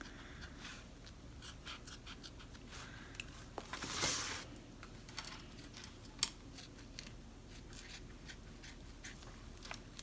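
Dull scissors cut across thick fluidity vinyl for a cowboy zipper bag, giving close, quiet snips and scratchy crunches at irregular intervals, with one brief louder burst.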